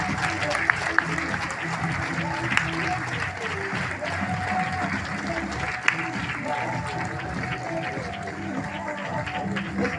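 Steady, dense applause from a hall audience at a stage event fills the whole stretch, with a voice speaking over the clapping throughout.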